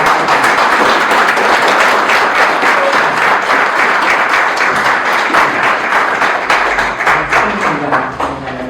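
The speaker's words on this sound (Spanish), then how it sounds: "Un aplauso para el señor." Sustained applause from an audience at a commemorative tribute event, steady and dense crowd clapping throughout that thins slightly toward the end.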